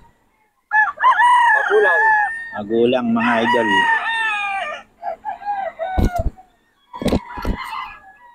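Roosters crow loudly nearby, one long call after another, with someone briefly speaking and a few sharp knocks near the end.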